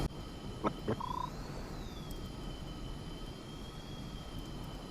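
A JF-17 jet taxis to the runway in DCS World, its engine a steady whining hum with a slowly gliding tone over a low rumble, broken early by a couple of brief clicks and beeps.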